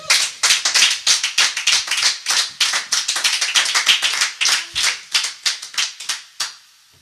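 A church congregation claps in unison to acclaim Jesus at a prayer service, a steady run of sharp, loud, rhythmic claps that ends with a few trailing strikes.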